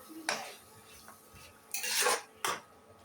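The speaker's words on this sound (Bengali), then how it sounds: "ভালোভাবে নাড়াচাড়া দিয়ে কষিয়ে নেব," Chicken feet, gizzard, liver and potato stirred in a pan: a few sharp clanks and scrapes of a metal spoon against the pan, spaced out over a faint background, with no talking.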